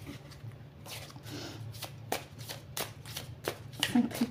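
Playing cards are shuffled by hand in a series of sharp riffling bursts and soft slaps, close and moderately loud, with a voice faintly in the background.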